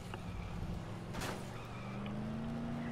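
A car crash in the video game Dead Island: a steady engine drone with a sharp, brief impact burst partway through, followed by a rising engine tone, heard alone without talk.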